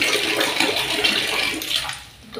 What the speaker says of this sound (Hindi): पानी भर रहा है अभी हमारा